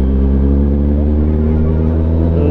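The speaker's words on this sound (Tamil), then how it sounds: "இந்த பைக் சவுண்டில் எங்கத்தான் எனக்கு காது கேட்குது." A motorbike engine drones steadily while riding, a loud continuous low hum with no break and no talk.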